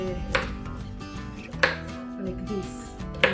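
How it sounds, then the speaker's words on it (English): Carrots chopped into small pieces with a knife in an Indian home kitchen, a steady run of close, quick blade taps on a cutting board with a few sharper knocks. "Let me join her and help her in chopping some vegetables."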